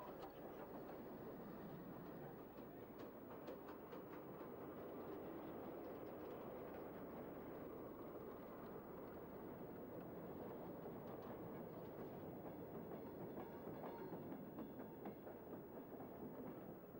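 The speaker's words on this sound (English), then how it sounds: "the running of this loose-coupled goods train provided by the Severn Valley and running to Newport was the highlight of GW 150" A loose-coupled goods train hauled on the Great Western line toward Newport runs steadily past, with continuous rumble and rhythmic clickety-clack of wagons over rail joints, moderately distant and alone without talk.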